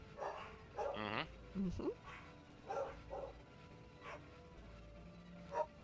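A dog barks outdoors somewhere nearby while being walked, a few separate yips and barks spread across the stretch under a low background hum, with brief murmured talk in the room.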